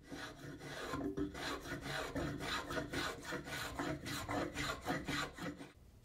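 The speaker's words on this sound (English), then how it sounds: "Spoke shaves are great for freehand shaping or cleaning up curves that the machines have cut." Spokeshave shaping wood by hand in a woodworking shop, a series of rhythmic rasping strokes, about a dozen even passes in close succession, close and moderately loud with no talking.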